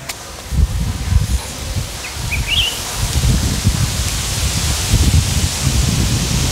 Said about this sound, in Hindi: ये देखो हवा